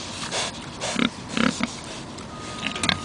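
Pigs in a livestock pen let out a few short grunts and snorts, scattered irregularly and close by over a steady background hum.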